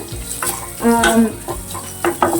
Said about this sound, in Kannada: ಹಾಕ್ಬಿಟ್ಟು ಇದರಲ್ಲಿ ಚೆನ್ನಾಗಿ ಫ್ರೈ ಮಾಡಬೇಕು